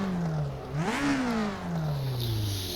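A Lotus 49b race car engine in the rFactor 2 racing game revs up once sharply, then the pitch slides steadily down as it eases off, a clear, mid-loud whine.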